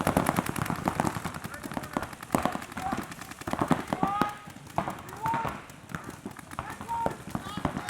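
Rapid bursts of paintball gun fire during a recreational paintball game, dense irregular popping volleys throughout with people shouting and talking over the shots.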